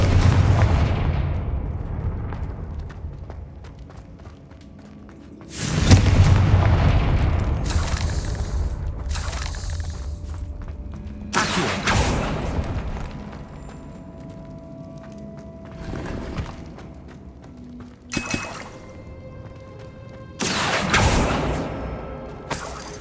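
Repeated Confringo spell explosions in Hogwarts Legacy, cast in a decayed catacomb: about seven loud booming blasts at irregular intervals, each with a rumbling decay over low background ambience.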